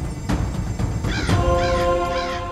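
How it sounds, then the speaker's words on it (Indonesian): Hungry crows caw repeatedly, loud and near, the harsh calls overlapping one another against a steady background wash, with no talking. "Kau lihat gagak-gagak yang lapar itu?"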